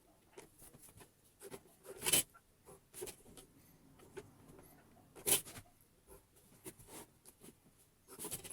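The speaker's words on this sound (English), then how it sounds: "So let's get drawing." Pencil strokes on a drawing board during engineering graphics work, soft scratchy scribbles and taps in irregular bursts, with a couple of louder swipes, close and quiet.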